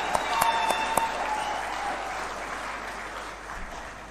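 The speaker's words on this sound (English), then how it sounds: "Let's clap for that." An audience at an official Kenyan government address applauds with a steady, moderately distant wash of clapping and a few sharper claps near the start, tapering gradually.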